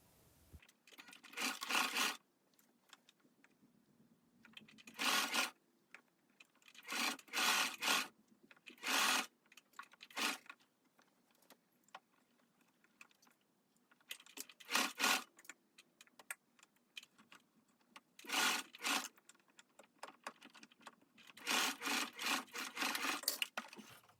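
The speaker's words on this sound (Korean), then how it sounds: "시침핀으로 고정했던 이 부분에 끝점을 맞추어서 봉제를 해주겠습니다" A sewing machine stitching a seam on a brushed-fleece hooded dress, running in about ten short bursts separated by quiet pauses, fairly faint and close.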